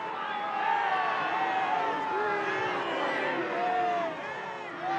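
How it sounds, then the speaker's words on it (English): Stadium crowd roaring and cheering steadily at a 1979 rugby union match between Edinburgh and New Zealand, a dense sustained swell of voices with rises and falls throughout, with commentary over it. "listen to the crowd"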